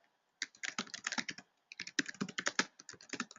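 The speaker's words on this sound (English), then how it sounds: "what I'm typing into the box now" Rapid, irregular keystrokes on a computer keyboard, typed in two close bursts separated by a short pause, with no speech.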